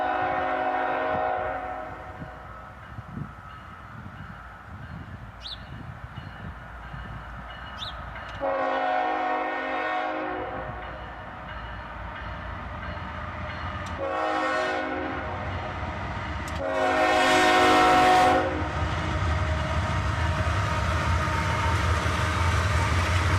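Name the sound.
northbound CSX freight train led by AC44CWs, horn sounding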